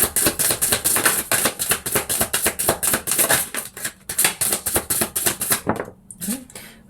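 Tarot cards are shuffled in a fast, rhythmic series of crisp riffling flicks, close and steady for several seconds before trailing off into a brief pause and soft handling.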